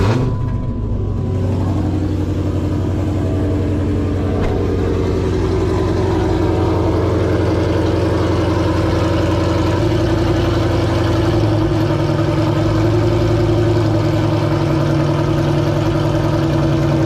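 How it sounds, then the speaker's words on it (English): A Dodge Challenger SRT8, left parked for a week, rumbles at a steady, deep idle while warming up. The engine is loud and close throughout, with no voices. "I'm going to fire this thing up, let it warm up a little because it's been sitting for a week"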